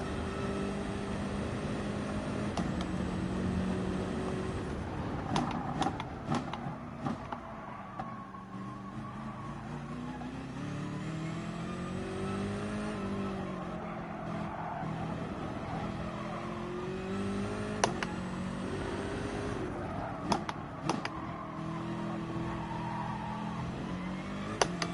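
Race car engine in the Gran Turismo 7 video game, a steady droning whine that rises and falls through gear changes and revs for the whole stretch, with occasional clicks and faint tire noise.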